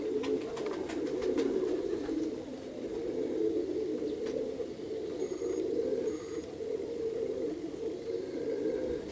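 Pigeons over Perm give a steady, low cooing drone that continues without a break, joined by faint scattered chirps, with no talking.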